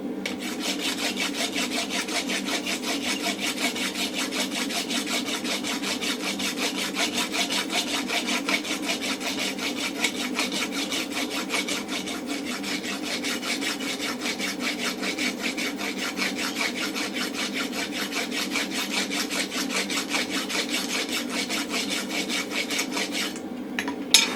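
A rasp filing a steel round punch during blacksmithing, giving a continuous rapid scraping of fast even strokes, close and steady for over twenty seconds with no talk.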